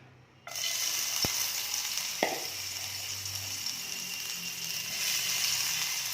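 Oil and bread crumbs fry in a pan with a steady, bright sizzle that runs throughout, broken by a couple of sharp utensil taps near the start.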